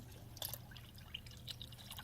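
Water from a smart sensor tap faucet runs in a faint, steady trickle, with a few light splashes and drips close by and no talking.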